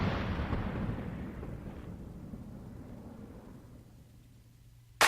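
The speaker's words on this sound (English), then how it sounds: "So you got the explosion." A deep, rumbling explosion sound effect in a film score booms and decays slowly into a low, fading roar, with a brief sharp hit right at the end.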